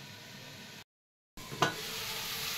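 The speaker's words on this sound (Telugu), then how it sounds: "5 నిమిషాల తర్వాత తీసి ఒకసారి కలపాలి." Mutton curry simmering in oil in a covered pan, given one stir: a soft steady sizzle broken by a short gap, then a single brief scrape of the spoon over continuous frying hiss.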